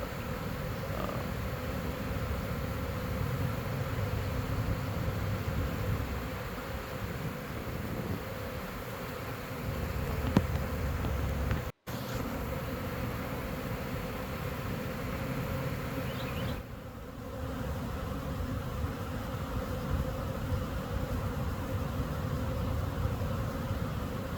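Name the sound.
swarm of honey bees buzzing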